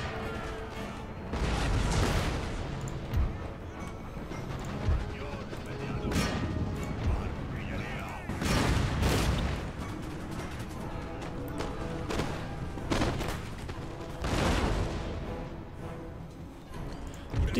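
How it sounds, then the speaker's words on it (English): Musket volleys in the video game Empire: Total War, a dense battle din with repeated crackling bursts of gunfire and crashes of moderate loudness, heard over steady background noise with someone commenting throughout. "The game really doesn't like killing off units with gunfire."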